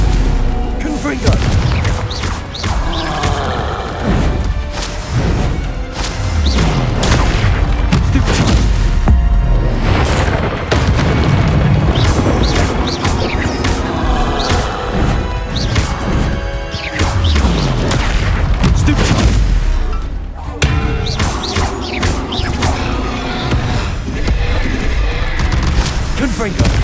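Repeated Confringo spell explosions in Hogwarts Legacy, with loud booms, crashes and impacts continuing through a long stretch of combat while people talk over the noise.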